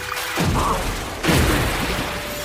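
A water ball magic spell strikes its target in an English-dubbed anime: two loud, broad crashing bursts of impact, one after another, filling the scene with dense noise.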